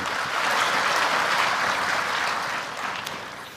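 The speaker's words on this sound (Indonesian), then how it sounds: "Tepuk tangan untuk berita baik boleh." Broad, washing applause from a large audience at a presidential address in Indonesia, steady and distant-sounding, fading slightly near the end.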